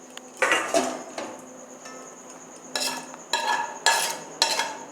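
Home-cooked chow mein is stirred in a pan, giving several loud, close metallic scrapes and clanks of a utensil against the pan, arriving in irregular bursts over a faint background hum.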